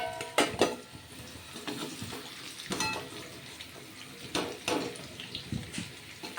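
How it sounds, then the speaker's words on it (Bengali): Potatoes for Bengali aloo dum lifted out of hot oil in a kitchen, with metal utensil clinks and scrapes against the pan over a soft sizzle, a few louder strikes spread across the moment. "এবার আমি তুলে নিচ্ছি আলুগুলো।"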